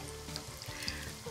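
Garlic sizzles hard in a hot pan for beef bourguignon, a steady close crackling hiss with a few brighter pops and faint stirring, no voices.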